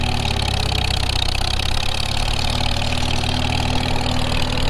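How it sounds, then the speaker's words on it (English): An M&W 9-speed transmission tractor, newly fitted with a carburetor, runs steadily in road gear, giving a continuous, loud, close engine drone with a low rumbling hum and no talking. "M&W 9-speed through all the gears"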